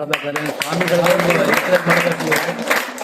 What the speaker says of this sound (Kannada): ಮಕ್ಕಳು ಚಪ್ಪಾಳೆ ತಡಬೇಕು